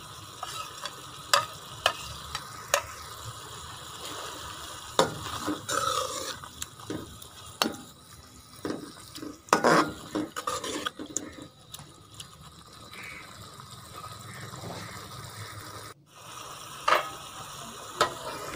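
Finely chopped carrots stir-fried with masala in a pan for spicy chicken vegetable noodles, steady sizzling under frequent scraping and clinking of a spoon against metal, close and continuous, with no voices.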